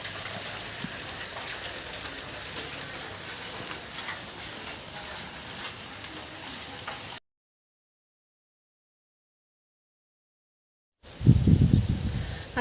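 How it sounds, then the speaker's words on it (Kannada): Light morning drizzle patters as a soft, steady hiss for several seconds, then stops completely before a louder rustling burst. "ಬೆಳಗ್ಗೆಯಿಂದ ಚಿಟ್ಟಿ ಚಿಟ್ಟಿ ಮಳೆ ಆಲೆ ಶುರುವಾಗಿದೆ."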